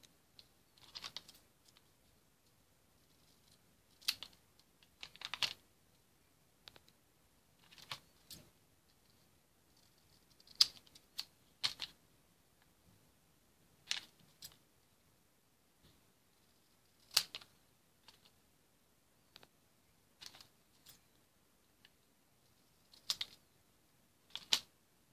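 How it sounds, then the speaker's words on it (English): Scissors trimming the edges of a small piece of paper into a square for a DIY pendant jewelry craft, heard as a series of short, crisp snips in scattered clusters, close and fairly quiet, with no talking. "now we're just going to cut the edges to cut it in the perfect square"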